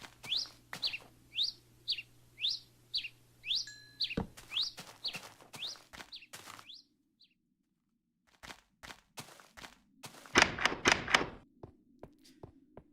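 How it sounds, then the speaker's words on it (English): Birds in the Minecraft video game give a run of quick, rhythmic chirps, followed by sparse thunks and a dense burst of clatter near the end. "It's only those birds right there"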